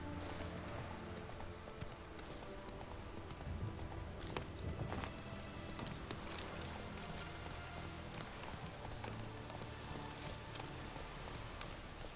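A horse gallops in The Witcher 3, its faint hoofbeats sitting inside a dense, steady wash of ambient noise that sounds rain-like. The level stays even throughout and no one speaks.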